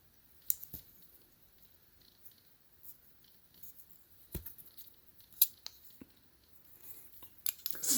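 A 13-in-1 Urban Gear multi-tool with built-in LED flashlight is folded shut, giving sparse, quiet metallic clicks and snaps scattered over a near-silent background.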